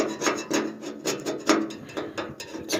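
Rhythmic rasping strokes of a sander on scrap metal, a steady back-and-forth scrape repeating about twice a second, close and fairly loud.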